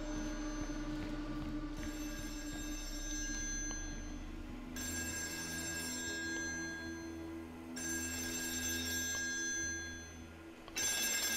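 A telephone rings in bursts on an offshore oil rig in the horror game Still Wakes the Deep, a bright repeated electronic bell with short pauses, over a low mechanical drone.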